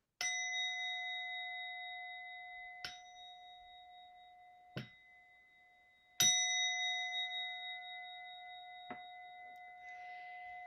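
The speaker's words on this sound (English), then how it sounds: "listen for the gong. It sounds like this." A clear metallic meditation gong tone rings out and sustains, with several soft strikes renewing the shimmering hum; quiet and calm, no voices.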